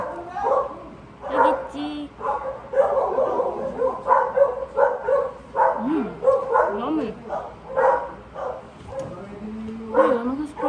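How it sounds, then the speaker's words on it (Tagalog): Several dogs bark and yip excitedly, with some whimpering, while a person talks over them nearby. "Narinig niyo ba yung mga aso?"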